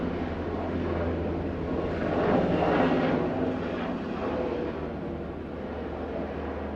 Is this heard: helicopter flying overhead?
yes